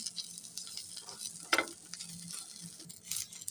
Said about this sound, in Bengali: নেড়ে চেড়ে রসুন এবং পেঁয়াজগুলো ভেজে নিচ্ছি।